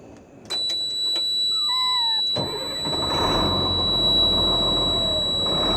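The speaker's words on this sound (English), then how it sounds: "let's get this truck going" A truck's engine starting at a Baja beach campsite: a few short clicks and whines, then the starter cranks and the engine catches into a loud, steady rumbling idle close by.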